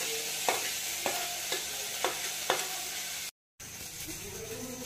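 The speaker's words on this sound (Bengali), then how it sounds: "পেঁয়াজটা আমি হালকা করে ভেজে নিয়েছি, তারপরে এই আদাটা দিয়ে দেবো" Onion and ginger frying in a pan, with a constant sizzle and five evenly spaced utensil taps against the pan. A brief gap of silence is followed by the frying hiss resuming.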